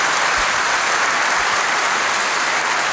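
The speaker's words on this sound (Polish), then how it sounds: "to należą się gromkie brawa" Thick, continuous applause from a festival audience at a talk during the Pol'and'Rock festival, an even roar of clapping heard close and loud throughout.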